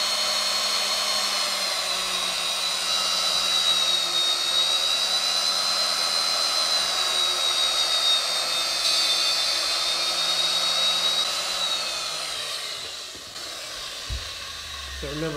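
An orbiting valve seat cutting machine running on a motorcycle cylinder head for an XR650 build, a steady high-pitched motor whine with a faint lower hum, close and continuous before winding down near the end.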